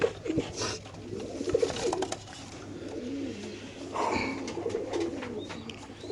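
BRPFC racer pigeons in cages at a pigeon market coo repeatedly in soft, rolling calls, with several birds overlapping nearby among faint crowd murmur.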